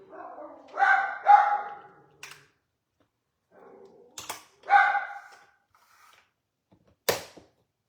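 A dog barks in short bursts, a couple of sharp woofs, a pause, then more barks, fairly close in an otherwise quiet room.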